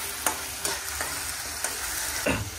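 Fish frying in a pan of hot oil, a steady sizzle broken by several sharp scrapes and stirs of a spatula, close and alone with no voices.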